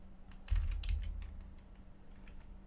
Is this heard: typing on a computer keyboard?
yes